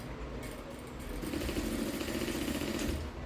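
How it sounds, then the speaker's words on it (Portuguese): A straight-stitch sewing machine runs through layered fabric, a close, steady mechanical whir that rises in pace and holds without talk. "Entrou aqui na máquina reta"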